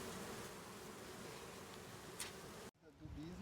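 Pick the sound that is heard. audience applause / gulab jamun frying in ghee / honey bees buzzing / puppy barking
honey bees buzzing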